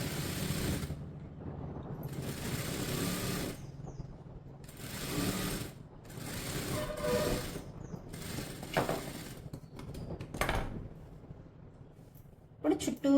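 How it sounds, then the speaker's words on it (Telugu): Domestic sewing machine stitching along a blouse neckline on the lining, running in several whirring bursts separated by pauses, close and steady, with a few sharp mechanical clicks as fabric is handled near the end. "ఇప్పుడు దీన్ని ఇలా రివర్స్, దీని మీదనే కుట్టు వేసి"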